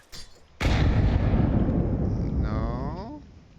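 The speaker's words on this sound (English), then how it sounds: "Throwing a grenade." A grenade in Counter-Strike on the Nuke map, heard as a short click and then a sudden heavy blast that booms and slowly fades with a rolling echo, loud and close.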